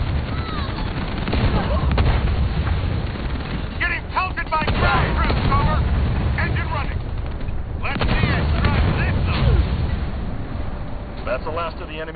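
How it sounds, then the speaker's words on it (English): Gunfire from enemy ground troops in the video game Halo Wars 2, with dense, continuous rattling shots and blasts across the whole stretch and talk over the top. "Scorpion under fire from enemy ground troops!"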